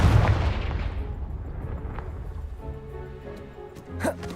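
A Confringo blasting spell in the video game Hogwarts Legacy blows apart a pile of debris blocking a stairwell, a loud booming explosion at the start that rumbles and slowly decays, with a brief sharp crack near the end.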